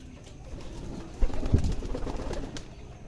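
Pigeons nesting on eggs give soft, low coos from close by, a short burst of throaty cooing rising midway through the clip over faint background noise.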